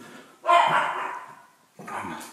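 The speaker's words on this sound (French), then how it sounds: "Ça c'est le chien qui est en bas," A dog barks downstairs in a house, two fairly faint, muffled barks about a second apart, heard from a distance.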